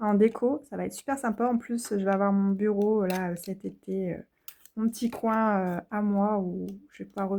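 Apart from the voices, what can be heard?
None of the usual background noises is heard.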